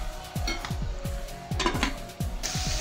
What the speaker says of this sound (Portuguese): nós vamos tampar a nossa panela e vamos deixar a nossa batata fritar